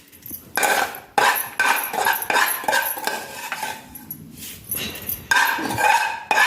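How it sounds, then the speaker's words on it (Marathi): Roasted semolina scraped out of a pan into a vessel, metal spoon and utensils clinking and scraping in irregular bursts, close and fairly loud, no talking. "रवा एका भांड्यात काढून घेते।"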